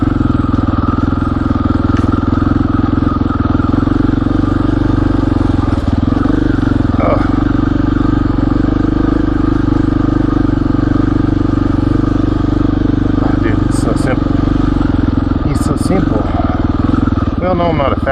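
A 2020 Husqvarna FE501s off-road motorcycle runs loud and steady while being ridden, its engine drone holding constant under heavy wind buffeting, with small rattles and clatter toward the end.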